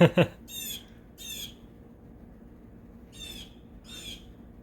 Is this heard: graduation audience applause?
no